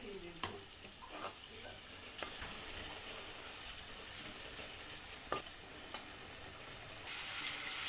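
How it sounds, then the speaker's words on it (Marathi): Spiced masala paste with peas and potatoes sautéing in oil for a Marathi matar batata rassa, a steady close sizzle and crackle with occasional scraping stirs of a spoon in the pan. "हे सर्व टाकून व्यवस्थित परतून घेणार आहोत"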